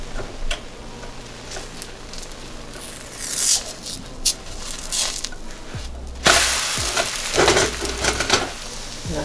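A Finnish pancake sizzles steadily in a hot pan, with light scraping and tapping of a utensil and a sharper clatter as it is flipped partway through.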